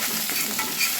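Pieces of snakehead fish fry in oil in a pan, giving a steady, close sizzle with soft crackles and no voices throughout.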